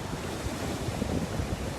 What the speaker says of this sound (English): So the water is still pounding